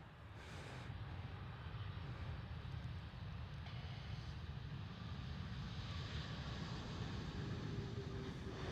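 Turkish Airlines Airbus A380 landing at Schiphol Amsterdam, its reverse thrust engaged on one side only, giving a steady, loud low roar of jet engines that holds evenly throughout.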